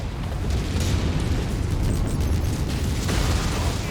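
Missiles pound a mech to destruction in Mechwarrior 5 during the Rise of Rasalhague campaign, a sustained, loud roar of overlapping explosions and rumbling blasts with no voices.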